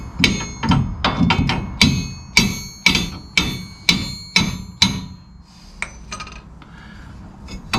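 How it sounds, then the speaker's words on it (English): Sharp, ringing hammer strikes on a rubber suspension part while installing Hellwig 61912 helper springs on a 2016 GMC 1500, struck in a steady rhythm of about a dozen close, loud blows that thin out toward the end. "you have to get the hammer and hit that rubber thing in the front in order to move it forward"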